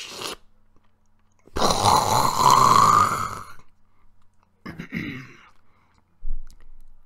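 A voice imitates a star collapsing into a black hole with a muffled, breathy rumbling drone that swells for a couple of seconds, followed by a shorter throat-clearing burst and a brief final grunt.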